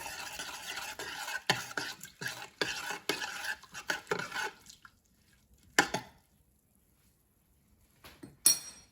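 Oats being stirred in an Instant Pot with a spoon, a run of close scraping strokes for about five seconds, then silence broken by a single clack and a last clatter at the end.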